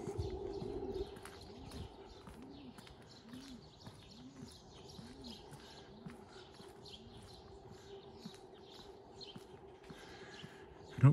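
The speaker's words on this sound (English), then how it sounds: "I hear pigeons." Outdoor pigeons cooing in a repeated soft rhythmic pattern, about ten low rolling coos in steady succession, moderately near with faint background city ambience and a brief voice at the start and end.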